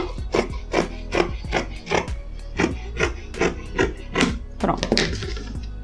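Sharp fabric scissors snip through denim jeans while trimming the side seam, giving about a dozen close, crisp cutting strokes in a steady rhythm with no talking.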